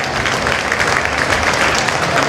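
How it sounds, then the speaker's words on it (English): A crowd gives a big round of applause to Senator Will Espero and Representative Della Au Belatti, dense, steady and loud throughout, with no voices standing out. "Give them a big round of applause"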